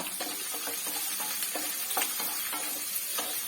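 Sliced onion and coconut pieces sauté in a hot pan for a jackfruit-seed stir-fry, giving a steady close sizzle broken by a few scraping stirs of the spoon.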